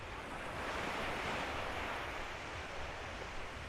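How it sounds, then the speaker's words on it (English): Ocean waves wash up on a sandy beach in Aruba, a continuous close roar of surf and foam with steady wind noise across the microphone and no voices. "Feet are in the edge of the waves coming up, as you can see."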